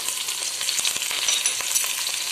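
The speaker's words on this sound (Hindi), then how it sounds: "अब इसके अंदर मैं लहसुन डाल रही हूँ, लहसुन अदरक का जो पेस्ट है" Garlic-ginger paste hits hot oil with frying onions, giving a dense, continuous sizzle with a few light clicks of stirring for a couple of seconds.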